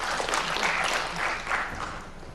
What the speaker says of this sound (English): that's a clap, please clap